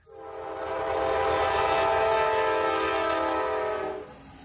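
A train's horn sounds as one long, sustained, loud blast, swelling in and cutting off after about four seconds over a low rail rumble.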